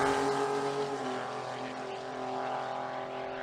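A small Toyota Corolla sports compact drag car runs down the strip at a Brisbane drag meet, its engine a distant, droning whine with steady harmonic tones, fairly faint throughout.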